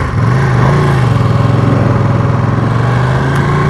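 A Ducati Panigale V2 twin-cylinder engine drones loudly and steadily while being ridden, a close, continuous throbbing hum with little change in pitch and no talking.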